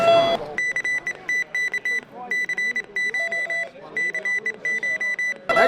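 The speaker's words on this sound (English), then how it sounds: "what you're hearing is what ham radio operators call CW, continuous wave is what it stands for." Morse code CW tones heard over ham radio: clean high beeps in clusters of dots and dashes, moderately loud over faint background hiss, with brief voice snippets at the start and end.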